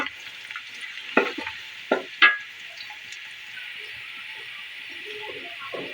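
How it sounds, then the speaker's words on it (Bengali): Nutmeg and mace lightly fried in oil for pulao give a soft, steady sizzle close by, with a few sharp scrapes of a spoon against the pan near the start. "এবার হালকা করে এগুলোকে ভেজে নেব।"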